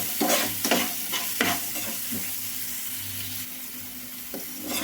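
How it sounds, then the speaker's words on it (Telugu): Pasta frying in a pan over high flame sizzles steadily while a spoon stirs and scrapes through it in irregular bursts, close and fairly loud, with no voices. "చూడండి, ఇట్లా వేయించేసుకోవాలి."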